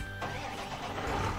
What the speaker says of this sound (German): Motor anlassen, ne?